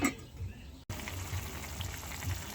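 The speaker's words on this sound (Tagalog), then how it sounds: "Ayan po't kuluan na." A pot boils on the stove while a Filipino binagkat snack is cooked, giving a soft, steady bubbling and hissing that stays faint and close throughout.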